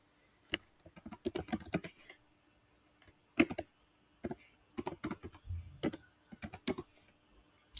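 Bursts of typing on a computer keyboard while card number and address are entered at checkout, irregular clusters of close key clicks separated by short pauses.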